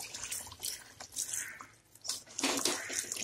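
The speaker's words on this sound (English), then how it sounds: "Here goes the water, half a liter water." Half a liter of water poured into a cooking pot of half-cooked potatoes and mixed vegetables for muthia gravy, a short splashing gush with dripping that swells near the end.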